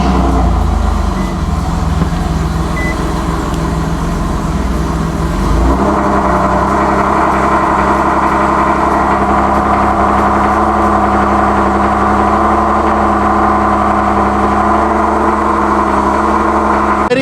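Turbocharged Nissan 370Z engine on a test drive after a boost leak repair: a steady, loud engine drone with a deep rumble that shifts in tone partway through, with no talking.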